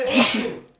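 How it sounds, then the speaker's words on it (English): A single close, sharp human sneeze, loud and brief with a breathy tail. "I'm going to sneeze."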